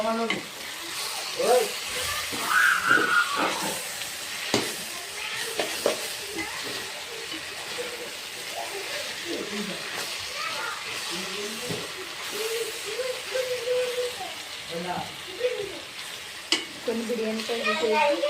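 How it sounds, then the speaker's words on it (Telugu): Onions fry in a pan with chilli powder, garam masala, turmeric and ginger paste, giving a soft continuous sizzle with occasional stirring scrapes and clinks, while someone talks intermittently over it. "వేసినాయి అందులో ఉల్లిపాయలు అయితే వేగుతున్నాయి"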